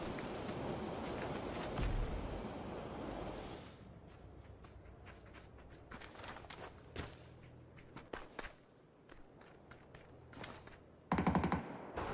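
Gunfire rattles in an esports video game match, with rapid bursts and single shots cracking over game ambience and scattered footsteps.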